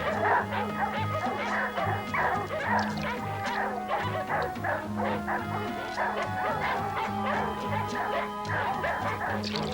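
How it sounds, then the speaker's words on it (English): A pack of hunting dogs barks and yips steadily and loudly, close by, with repeated overlapping bow-wows and whimpers over a dense, continuous chorus; the dogs are tracking a cougar's scent. "Barking warns the cats of approaching danger."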